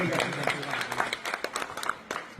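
Audience clapping at a coupon prize draw for a sports shop, a crowd's scattered, uneven claps with sharp individual hits, mixed with voices talking over them.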